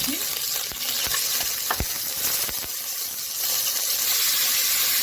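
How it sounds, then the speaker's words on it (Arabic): Beef sautéing in a pot with a spoonful of butter and oil gives a loud, constant sizzle, broken by sharp scrapes and clicks of a spoon stirring the meat. "نزلت باللحمه كده عشان اشوحها"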